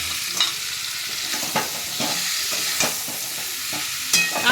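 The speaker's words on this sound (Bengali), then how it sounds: "এবার একটু নাড়াচাড়া করে নেব।" A spoon stirs star fruit pickle with salt and jaggery in a pan, with a soft continuous sizzle broken by several distinct scraping strokes against the metal, close and clear with no talking.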